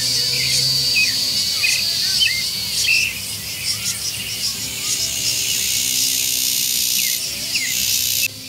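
Many birds of several species calling together, with repeated chirps and tweets over a steady high insect drone, outdoors at a nature spot in Mercedes, Corrientes, continuous and fairly close without speech.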